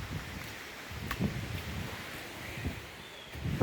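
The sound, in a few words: wind blowing outdoors on a foggy day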